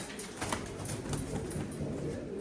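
Turkish tumbler pigeons coo softly against a busy background of fluttering and rustling, with repeated low calls throughout.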